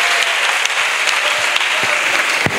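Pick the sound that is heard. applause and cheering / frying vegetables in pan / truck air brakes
applause and cheering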